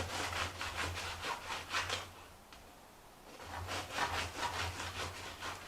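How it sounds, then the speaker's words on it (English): Serrated knife sawing through a baguette for bruschetta, rhythmic back-and-forth rasping strokes in two bursts separated by a short pause, close and faint. "Use a serrated blade so you don't squish the bread like I am."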